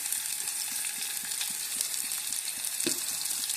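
Onions frying in oil in a pan, a steady dense sizzle running throughout with faint soft stirring taps, no voices.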